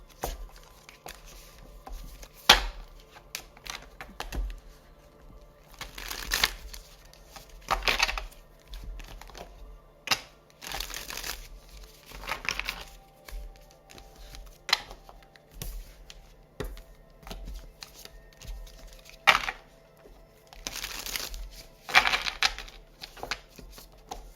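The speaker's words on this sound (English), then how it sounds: "Let me just shuffle these a little bit." A large deck of cards is shuffled repeatedly, with crisp riffling bursts and soft tapping at irregular intervals over a quiet background.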